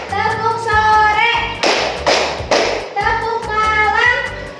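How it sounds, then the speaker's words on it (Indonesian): Schoolchildren in a classroom clapping game, bursts of quick rhythmic hand claps alternating with sung or chanted voices, the clapping loud and close in short clustered patterns between the vocal phrases. "Tepuk pagi, tepuk siang, tepuk sore,"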